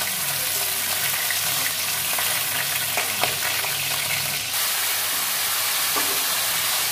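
Shrimp frying in mustard oil for a cabbage and potato curry, a loud continuous sizzle with occasional sharper crackles and stirring scrapes, close up.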